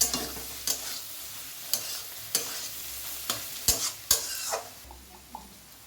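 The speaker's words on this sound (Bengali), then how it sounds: "তারপরে নাড়াচাড়া করতে হবে।" Curry being stirred in a frying pan, a spatula scraping and clinking in uneven strokes over a soft sizzle, close and moderately loud with no talking.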